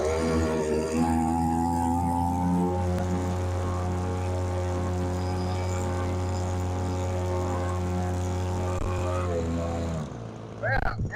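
A new 52cc 3.5HP two-stroke gas boat motor, a weed-eater-style outboard, runs out on the water with a steady buzzing drone and strong harmonic whine before it drops off near the end.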